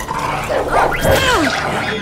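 A dog in a tense, chaotic scene gives loud, rough growling, roaring barks lasting a couple of seconds, with other voices and commotion mixed in close by.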